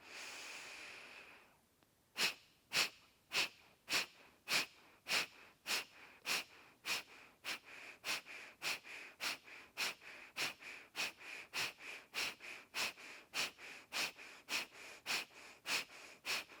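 Rapid, forceful rhythmic breaths during an energising yoga flow follow a longer inhale, with roughly two dozen sharp, evenly spaced puffs driven through the nose at close range, with no talking.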